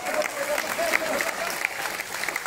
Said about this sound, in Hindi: अगर दोस्तों तालियां तो होना ही चाहिए.